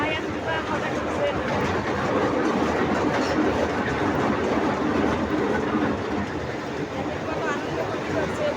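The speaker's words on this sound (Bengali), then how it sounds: "ছেড়ে দিয়েছে ট্রেন ছেড়ে দিয়েছে" A small train pulls away at Gopalganj eco park with a loud, continuous rumble and rattling clickety-clack of wheels, and indistinct voices mixed faintly underneath.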